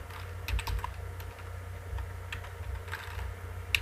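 A computer keyboard is tapped in short, uneven runs of soft clicks while an address is entered into an HTML school webpage, close and quiet over a faint low hum.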